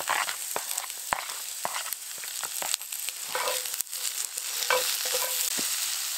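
Potatoes, red peppers and celery sizzling in a hot pot over an outdoor fire, a steady frying hiss broken by scattered stirring scrapes and small pops, close and alone with no talk.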